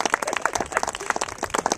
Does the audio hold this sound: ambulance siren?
no